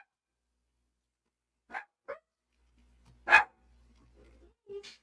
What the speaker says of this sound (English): Do you hear my puppy dog?